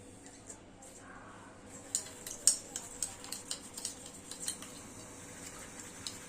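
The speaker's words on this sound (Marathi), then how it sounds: "आता मी ह्याच्यात घालणार आहे आणि नीट मिक्स करून बॅटरमध्ये" A spoon stirs Eno and oil together in a small bowl before it goes into the batter, giving soft, rhythmic clinks over a faint background.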